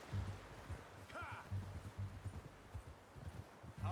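Horse hooves clop in an irregular rhythm on hard ground in the video game Red Dead Redemption 2, with a brief whinny-like call and some faint rustling in the background.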